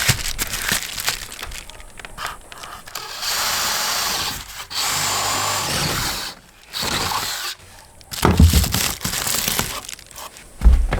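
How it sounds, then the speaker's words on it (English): A power drill bores through wood in a salvaged mobile home rebuild, loud sustained whirring in several long runs broken by short pauses, close up with no talking. "I would drill directly under the box"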